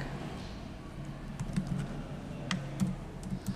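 Soft clicks of a computer keyboard come in short bursts of typing, fairly quiet over a faint room hum.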